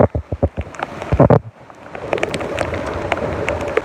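Heavy typhoon rain during Typhoon Hagibis, opening with a series of loud close knocks and thumps, then settling into a steady dense hiss of downpour that grows louder toward the end.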